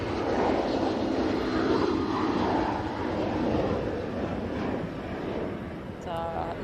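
Passing airliner's jet engines, a loud broad roar swelling and then slowly easing, close overhead with a steady rumble, faint voices in the background.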